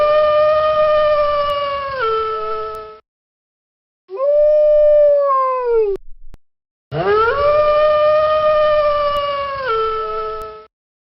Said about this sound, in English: A wolf made that sound.